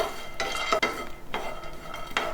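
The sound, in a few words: dry-roasting nuts and pistachios in a pan on low flame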